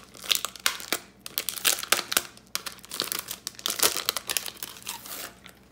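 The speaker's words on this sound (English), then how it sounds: "Now let's start putting our stickers down." Dollar Tree stickers are peeled from their backing and pressed into a Happy Planner, producing close, bursty crinkling and peeling rustles in quick irregular spurts with short pauses between.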